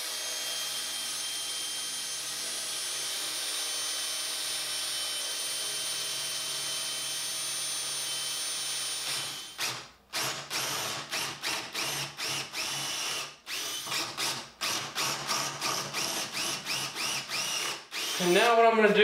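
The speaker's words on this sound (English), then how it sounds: "Now I'm going to go back and drill a pilot hole." A power drill bores a pilot hole in wood for a barn-door nightstand, first a long steady whine, then the motor cutting in and out in short repeated bursts, close and loud.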